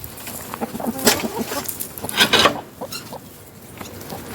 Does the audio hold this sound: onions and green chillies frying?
no